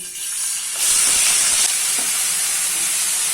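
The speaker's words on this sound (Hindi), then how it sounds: "अभी हम लोग इसमें ऑनियन ऐड कर देते हैं" Chopped onions hit hot oil in a kadai with a sudden burst of bright sizzling hiss, which then eases into a steady frying crackle. The sound is near and fills the space, with no talk.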